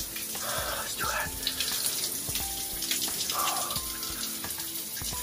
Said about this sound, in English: So I just jumped in the shower.